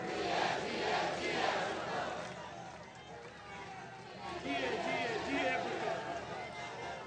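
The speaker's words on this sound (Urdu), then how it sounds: "ان کے لیے ایک ہی نعرہ ہے، نعرے نعرے نعرے بھٹو۔" A large crowd at a Pakistan Peoples Party political rally chants a Bhutto slogan, the voices rising and falling in loud, rhythmic surges that merge into a dense, roaring mass of shouting.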